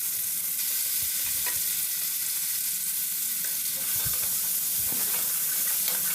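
Ground spice paste frying in hot oil gives a steady close sizzle and hiss, with a few soft stirring scrapes and knocks breaking through.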